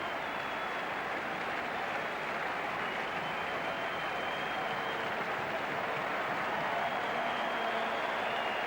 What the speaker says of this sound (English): Splendid ovation from everyone here